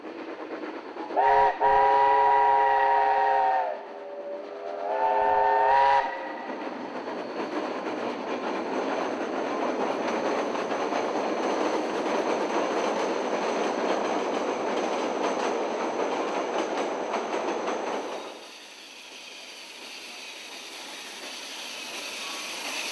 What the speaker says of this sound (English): the train pulls into Taumarunui station after being serviced